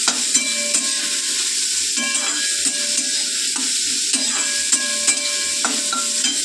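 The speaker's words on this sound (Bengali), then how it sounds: "ভাজা ভাজা হয়ে যাচ্ছে" Ridge gourd frying in a pan, a continuous bright sizzle broken by regular scraping strokes of a stirring spatula, close and loud with no talking.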